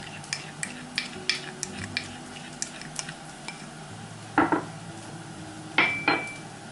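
Soy sauce, sesame oil and abalone sauce stirred together for a steamed tofu sauce, a utensil clinking and scraping against a bowl in quick light taps, with a couple of louder scrapes near the end.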